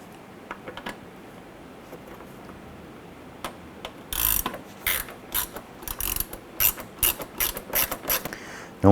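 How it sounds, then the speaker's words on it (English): Torx bit driving and snugging screws while fitting a parking light on a 1997-2006 Jeep Wrangler, heard as a quiet scattering of clicks, then louder close-up bursts of ratcheting, rattling mechanical sound in uneven spurts, with no talk. "I'm going to use just the Torx bit and I'm going to get the screws started."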